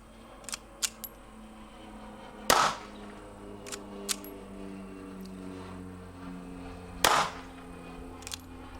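Two sharp 9mm pistol shots crack a few seconds apart, coming from a played-back recording, with lighter clicks and clatter of handling in between and a low hum beneath.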